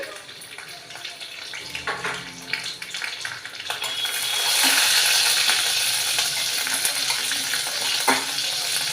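Mustard seeds with green and dried red chillies frying in oil for a bean and tomato curry, soft crackling at first that swells into a loud steady sizzle after a few seconds, with light stirring.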